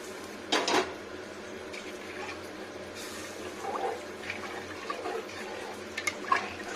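Water is poured into a pot of mung dal and rice, heard as a short gush of liquid with clinks of metal against the pot, then quieter splashing and handling, close and without talk.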